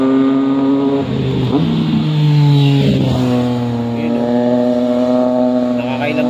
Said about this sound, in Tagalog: Ganda ng motor nyo. Mga big bikes.